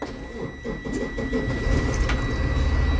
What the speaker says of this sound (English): turn the bus on